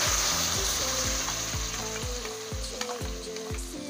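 Tomato paste sizzles and fries in hot oil with ginger, a steady crackling hiss punctuated by regular stirring scrapes of a spoon in the pan, close and alone without talk.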